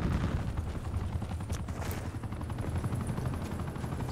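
A helicopter in the Call of Duty Black Ops 4 video game keeps up a dense, continuous rotor rumble, mixed with bursts of distant gunfire and explosions throughout.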